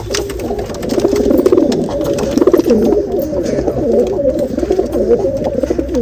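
Several pigeons in a loft, including champion and breeding males, coo continuously in overlapping low throaty rolls, close and fairly loud, with faint scuffing in the background.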